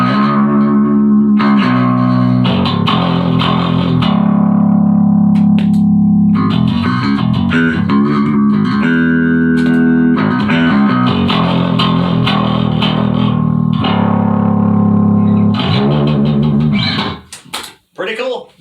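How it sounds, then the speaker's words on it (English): Bass guitar played through a ProCo Little Rat distortion pedal set just past the threshold of distortion, producing a loud, sustained, gritty, buzzing tone with shifting notes and chords for most of the passage, ending in a few scattered plucks. "And now we're going to engage the Little Rat, just barely turned up enough to engage that distortion channel."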